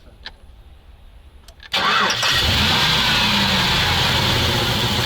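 A ZIL truck engine cranks without catching: an abrupt, loud, rough mechanical churn that begins after a quiet stretch and carries on steadily to the end, with no voices.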